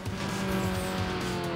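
Race cars in the video game Need for Speed Underground roar with a sustained engine whine and tyre squeal, loud and close, with no talk.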